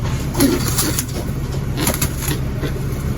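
Pet pigeons coo and flutter at close range while feeding, soft repeated calls over a steady low background hum, with no talking.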